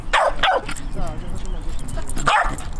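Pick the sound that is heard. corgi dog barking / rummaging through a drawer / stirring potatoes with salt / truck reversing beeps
corgi dog barking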